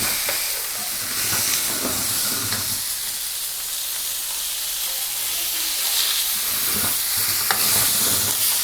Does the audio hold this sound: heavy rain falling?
no